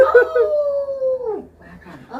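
A dog lets out a loud, close howl that holds a long, steady pitch and then slides downward, followed by a few softer whimpering yips.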